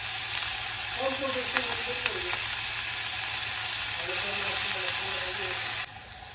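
Raisins and cashews frying in a pan for fried rice give a close, steady, hissing sizzle throughout, with a faint voice briefly underneath.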